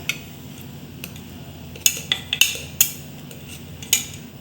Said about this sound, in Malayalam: ഇത് നമുക്കൊരു പ്ലേറ്റിലേക്ക് മാറ്റാം